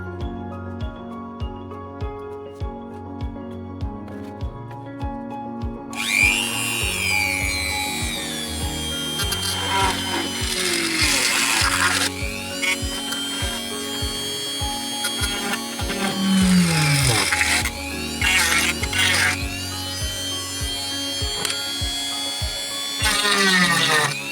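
A power drill whirs in bursts, pitch dipping as the bit bites into the housing of a rechargeable LED lamp, with clicks and handling noises between runs.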